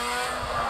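A race car in Forza Motorsport 6 gives a short, steady engine drone as it accelerates, loud and alone.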